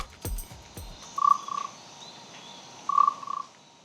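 Two short croaking rasps from a musical instrument of Negros Oriental, Philippines, separated by a pause, imitate a bullfrog; a few sharp clicks come first.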